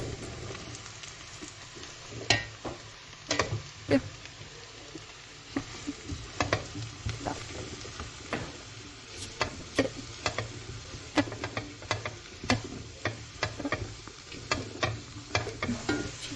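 Chicken breast and onion being stirred in a pan for fettuccine Alfredo, a low sizzle under frequent sharp scraping and tapping strokes of a utensil, close and irregular.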